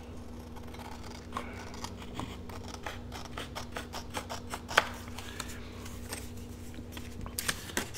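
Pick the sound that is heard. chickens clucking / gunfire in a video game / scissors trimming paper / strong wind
scissors trimming paper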